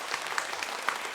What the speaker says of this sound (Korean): 한 번 더 박수 칠까요?